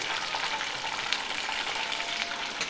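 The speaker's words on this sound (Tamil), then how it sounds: "இப்போது எல்லா சிக்கனையும் நான் ஃப்ரை பண்ணிவிட்டு" Chicken fries in oil in a pan, giving a steady, close crackling sizzle that holds at an even level throughout, with no one talking.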